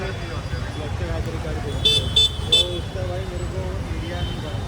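Road traffic rumbles steadily while a car horn honks three quick times, with a fainter honk near the end.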